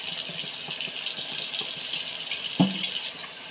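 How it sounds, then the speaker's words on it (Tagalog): Water runs steadily from a tap into a kitchen sink while dishes are washed, a continuous hiss with a sharp clink of crockery near the end before the flow softens. "Hugas tayo ng pinggan."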